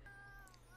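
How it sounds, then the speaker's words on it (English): Cat meowing in The Sims 4 video game, a single faint drawn-out meow with a slightly falling pitch, heard alone over quiet background. "not the constant meowing"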